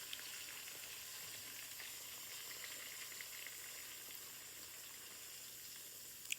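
Ground spice paste poured into hot oil in a pan while cooking an eggplant curry gives a steady, soft, continuous sizzle and hiss that runs unbroken for several seconds, with no talking.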